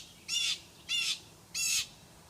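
Birds squawk and caw while mobbing a snake that raided a nest in a tree: three loud harsh calls in an even rhythm, close by, with a quiet gap between each.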